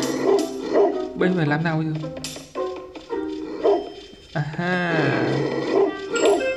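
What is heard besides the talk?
dog barking in a video game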